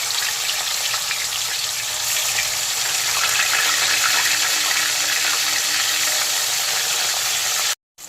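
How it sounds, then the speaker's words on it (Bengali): Fish pieces for a snakehead curry frying in hot mustard oil in a kadai, a loud, steady, dense sizzle that runs unbroken before cutting off abruptly near the end. "তেল গরম হয়ে গেছে মাছগুলোকে ছেড়ে দেবো গরম তেলের মধ্যে"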